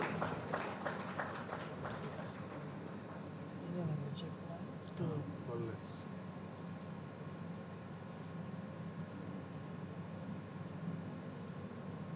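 Sustained crowd applause fills a college of management convocation hall as a marketing graduate receives a gold medal, a steady dense clapping wash running throughout with a voice speaking over it.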